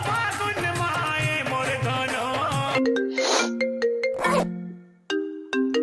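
A bright, melodic phone ringtone plays up close, a catchy tune of chiming notes repeating over several seconds.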